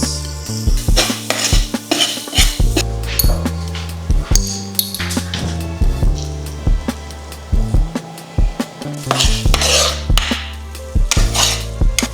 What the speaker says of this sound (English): So now I'm going to add in my unsalted butter, and I'm going to add in my seasoning.